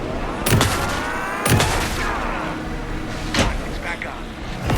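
Gunfire in the video game Alan Wake 2: several sharp, loud shots spaced about a second apart, with game characters talking in between.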